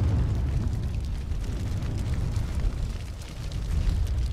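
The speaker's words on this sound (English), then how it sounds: "he threw a bomb at me" A bomb blast in the naval game Windward rolls out as a loud, sustained low rumbling boom with crackling noise, steady throughout.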